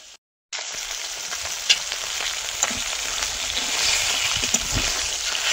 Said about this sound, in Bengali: মাছের মাথাগুলো ভাজা হয়ে গেছে, এবার তুলে দেবো।